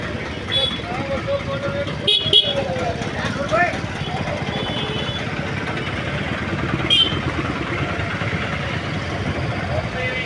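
Congested market-street traffic in Adoni, with idling auto-rickshaws and a large bus, forms a dense, continuous rumble, with a few short horn toots cutting through. People talk throughout over the noise.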